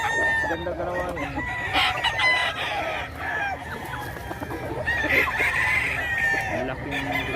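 Fighting roosters from Pampanga crow and cluck repeatedly at a busy market, several birds calling over one another at close range with a steady crowd murmur beneath.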